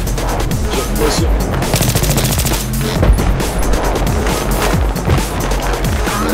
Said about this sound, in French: Le gars il tire à travers les murs là.